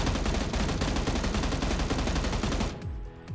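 An M16A4 rifle in PUBG fires rapid single shots in a steady, evenly spaced stream of loud reports, stopping abruptly near the end and leaving a brief fading tail.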